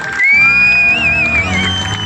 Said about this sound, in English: Let's keep this applause coming all the way over.